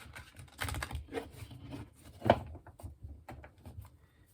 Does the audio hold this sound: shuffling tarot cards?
yes